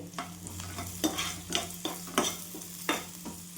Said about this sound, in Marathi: कढीपत्ता वापरत आहे मी आणि काजू पण टाकून घेते आणि छान भाजून घेते